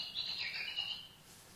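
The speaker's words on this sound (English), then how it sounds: "Tim Holy did this clever trick where he shifted the pitch down so that it was in the audible range" Ultrasonic animal song pitch-shifted down into the audible range, a quick run of high chirping, warbling notes much like birdsong, heard alone at a faint level for under two seconds before fading out.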